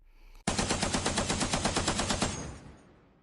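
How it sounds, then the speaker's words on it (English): A Spitfire's guns fire a rapid, loud burst of about two seconds, close and evenly paced, then cut off and leave a short fading echo. "As a Spitfire opens up, their bullets rake his body."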